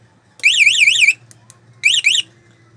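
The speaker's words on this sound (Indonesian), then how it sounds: "alarm juga tetap bunyi" An MP brand motorcycle alarm blares close by in two loud bursts of rapidly warbling electronic siren, a longer one followed by a short pause and then a shorter one.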